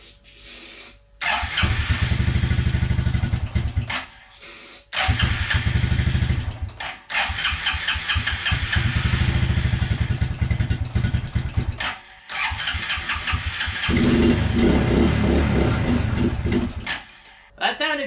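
A Suzuki King Quad 300 ATV engine runs on choke, loud and close, in several long rough bursts separated by short pauses as it stumbles and restarts.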